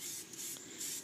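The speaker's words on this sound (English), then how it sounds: "And on my chairs, I'm just going to start spraying it." Vintage paint sprays from a can onto wooden chairs in a steady hiss with a slight pulse in strength, heard briefly and close by.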